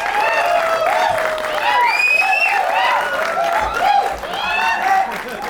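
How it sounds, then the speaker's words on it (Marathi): An audience at a film trailer launch applauds director Ram Gaonkar: sustained clapping mixed with cheering and shrill whoops, swelling and easing over several seconds. "जोरदार टाळ्या होऊन जाऊ देत रामसाठी"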